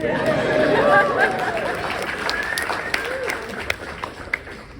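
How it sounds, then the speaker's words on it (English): Audience clapping at a Comic-Con talk, moderate at first with chatter and voices over it, fading into sparse scattered claps. "Let's clap for the gay liberation movement."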